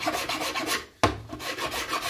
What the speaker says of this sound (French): Et je lime pour supprimer toutes les aspérités, tous les défauts.